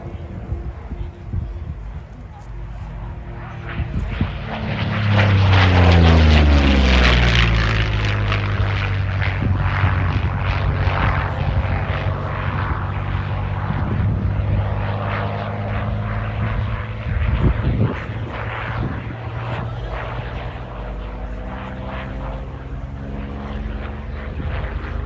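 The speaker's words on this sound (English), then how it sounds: "Here comes Paul Bennett in the Aviation Kittyhawk" A Curtiss Kittyhawk Mk1A propeller fighter makes a display pass, its engine drone swelling loud around the flyby with a falling Doppler pitch, then holding a steady roar as it moves away.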